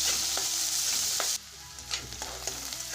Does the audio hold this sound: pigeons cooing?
no